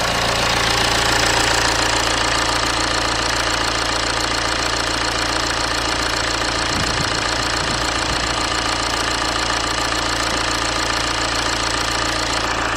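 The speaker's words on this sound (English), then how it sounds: "Now let's just fire the engine up and make sure we don't have any leaks from there." A BMW N47 diesel engine idles with a steady, dense clatter, a loud continuous rumble close by that holds unchanged from start to finish.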